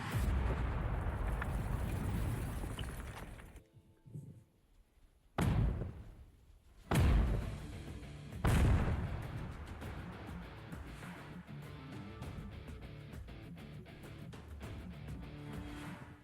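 Grenades detonate against dummies in three sharp, heavy blasts a second or two apart, each followed by a rolling rumble, after a stretch of steady loud noise that drops away into near quiet.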